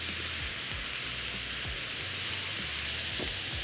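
Ribeye steak and thinly sliced onion frying in a pan, a loud, dense, steady sizzle with occasional crackles and pops throughout, without talk.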